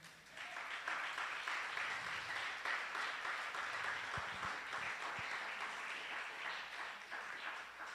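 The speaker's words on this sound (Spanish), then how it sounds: "Denle un aplauso al Señor." Sustained applause from a church congregation, a dense wash of clapping that swells and continues steadily for several seconds, heard at a distance.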